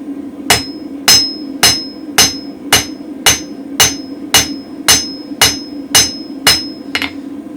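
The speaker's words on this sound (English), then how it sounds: "when you're forging like this" A hammer strikes mild steel on a spring fuller in a steady run of about twelve ringing blows, evenly spaced roughly every half second, close and loud over a low hum.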